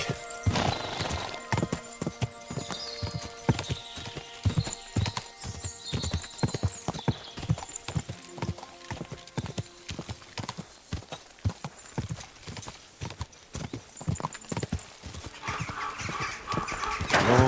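Hooves clip-clop steadily on hard ground in a quick trotting rhythm, with a horse whinnying briefly and light background sounds, no talking, in the video game Kingdom Come: Deliverance 2.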